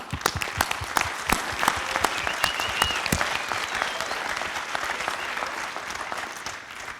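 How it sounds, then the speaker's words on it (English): Audience applause at the closing ceremony of a transport technology world congress in Bordeaux, a dense, steady wash of many hands clapping, sustained for several seconds at moderate level and gradually easing toward the end. "I want to have an applause for you"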